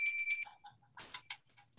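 Notification bell sound effect: a few bright ringing dings, loud and close, with short gaps between them and nobody talking.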